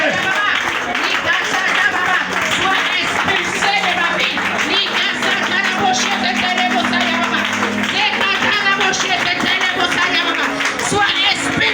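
A church congregation clapping hands in rhythm while praying, steady claps running under loud chanting voices and crowd noise throughout.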